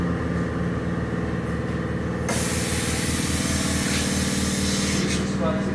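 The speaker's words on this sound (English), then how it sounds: "The other tire is also coming out of the wheel now" A tyre is worked off its wheel at a tyre shop. A steady mechanical hum pulses in a regular rhythm, and partway through a loud airy hiss cuts in and carries on over it.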